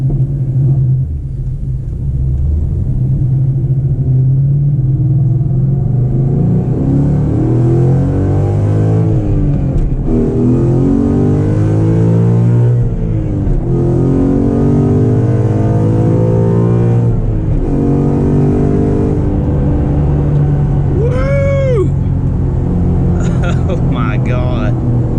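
A 2013 Ford Mustang Boss 302 with an MGW short shifter rumbles low, then accelerates hard through several gears, its loud engine note climbing and dropping at each shift, heard from inside the car.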